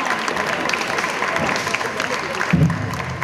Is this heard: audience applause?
yes